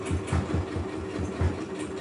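A sewing machine stitches slowly across a nylon zip on a fabric coin purse, its low motor thumping in a gentle, regular pulse of needle strokes; close, moderate and uninterrupted by talk.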